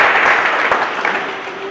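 Audience at a bilingual contest show applauds a departing contestant, a steady wash of clapping filling the moment, fairly loud and close, with a faint tonal hum running underneath.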